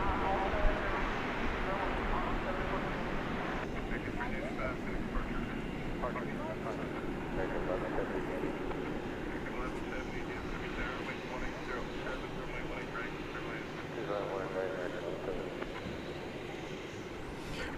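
An airliner inbound from Madrid roars steadily overhead at DFW Airport, a broad continuous jet rumble filling the whole stretch, with a voice talking over parts of it.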